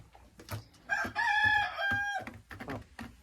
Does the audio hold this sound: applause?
no